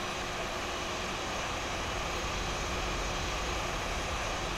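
An Airbus A320 in the X-Plane 11 flight simulator during pushback gives a steady, dense broadband roar of aircraft air and engine noise, constant and unchanging, with no voices.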